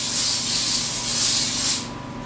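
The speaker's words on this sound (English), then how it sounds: "spray a nice big skillet with cooking spray." A continuous close hiss of cooking spray sprayed onto a skillet, lasting nearly two seconds, then cutting off abruptly.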